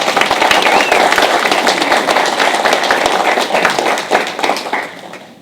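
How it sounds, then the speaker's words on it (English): Audience applause at a county board meeting honoring Henderson County High School students, a dense burst of many hands clapping that stays loud before thinning out and fading toward the end. "Let's give them a round of applause."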